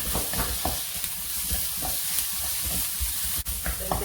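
Ginger garlic paste sizzles and is stirred in a pan, a steady close frying hiss with scattered spoon scrapes and taps running continuously throughout.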